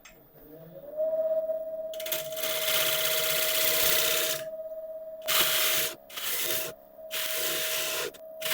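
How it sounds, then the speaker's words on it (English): A wooden edge is sanded in rough, rasping bursts of varying length, separated by brief pauses, close and fairly loud over a steady mechanical hum. "then I'll just do it all with sanding."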